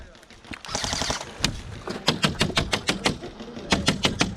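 Airsoft guns fire rapid, sharp bursts during an outdoor airsoft game in Bremerton, Washington, with snappy shots clustering into quick strings and a steady run of evenly spaced pops near the end, while players call out.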